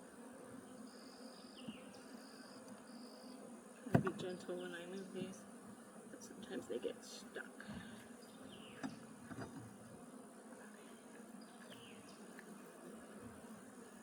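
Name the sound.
honey bees buzzing in hive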